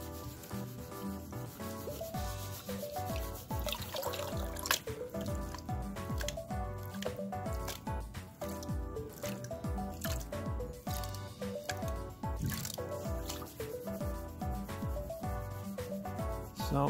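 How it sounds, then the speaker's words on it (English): Crushed ore from an old mine dump, the plus 30 mesh fraction, is panned for gold in a basin of water: continuous gritty swishing and sloshing in rhythmic strokes over a steady tonal background. "Now I'm gonna go get a water basin and start panning this stuff out."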